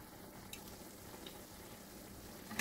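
Sauce for spaghetti simmering in a pot with the lid off, giving a faint, steady low bubbling and sizzle throughout with no talk.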